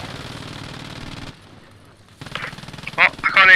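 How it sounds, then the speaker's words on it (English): Rapid bursts of gunfire crackle in the World War II shooter Post Scriptum, loud and near at first, then a brief lull before more scattered shots and sharp reports. "The gunshot's doing crazy. There's people shooting at you from the east."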